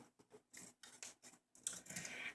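Scissors snip through a paper sentence strip in quick, quiet bursts, a run of short crisp cuts close up, then a longer rustling slice near the end.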